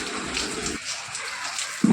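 Rain hisses steadily and fairly loudly, with a low rumble and a sharp thump near the end.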